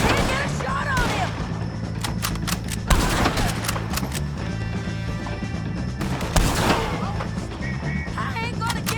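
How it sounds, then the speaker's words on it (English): A frantic shootout against O'Driscoll gang members in the video game Red Dead Redemption 2 fills the scene with repeated loud gunshots, bursts of rapid fire and echoing cracks. Voices come and go amid the continuous battle din. "shoot some of these O'Driscolls!"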